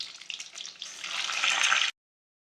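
Eggs frying in about two spoonfuls of hot oil for an egg curry, a steady broadband sizzle that builds and grows louder for nearly two seconds before cutting off abruptly.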